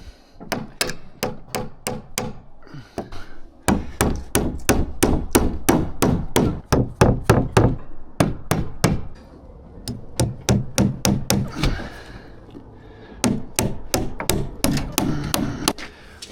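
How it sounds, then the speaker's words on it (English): Broken-off gun nails are hammered in to peg a plate down: loud, close, evenly spaced blows in three long runs with brief breaks between. "I just broke off some gun nails, and I'm just going to peg this"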